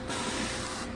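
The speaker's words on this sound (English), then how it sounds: "I'll spray this foam down." Steady spray hisses for about a second as foam is sprayed down on brew coming up to a boil in a brewery kettle, close and continuous.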